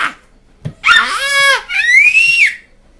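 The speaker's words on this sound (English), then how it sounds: "They're going to have a screaming contest right now." A mother and daughter take turns in a screaming contest, with two long, loud, high-pitched screams one after the other, the second rising and sustained before cutting off.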